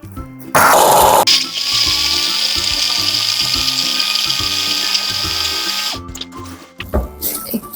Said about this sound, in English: Take the Oreo cookies and put them into the blender.